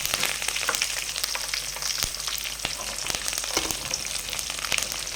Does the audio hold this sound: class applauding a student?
no